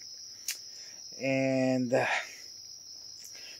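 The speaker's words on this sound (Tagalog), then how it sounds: "sobrang ingay ng mga insekto. Mga kuliglig." A steady high chorus of crickets chirps at night before rain on a solo hunting trip, continuous in the background while someone speaks a short phrase over it.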